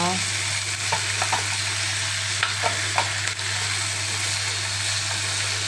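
Onions stir-fry in a pan, a steady loud sizzle with occasional scraping clinks of a utensil stirring, over a constant low kitchen hum.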